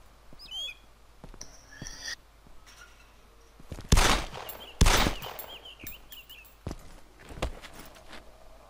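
Two loud, sharp pistol shots from the Arma 2 mod DayZ crack close together over a quiet outdoor backdrop with birdsong, followed by a few fainter thuds.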